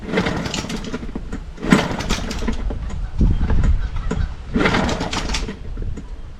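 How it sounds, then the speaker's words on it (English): A Hangkai outboard motor is pull-started with the choke on: several loud, rough bursts of starter cord and sputtering engine cranking, close by and alone without talk. "You can see that pull starter, like it's a little bit wonky catching the flywheel"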